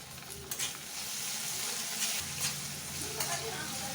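Finely chopped tomatoes fry in a pan of oil for an Andhra-style uggani dish, a steady close sizzle with crackling pops and occasional stirring scrapes.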